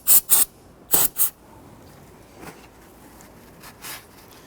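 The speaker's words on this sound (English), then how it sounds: "give that a quick spray with some solvent" A spray can of solvent hits a brake master cylinder on a 2006-2014 Honda Ridgeline in a few short, loud hissing bursts, then quieter faint sprays after a pause.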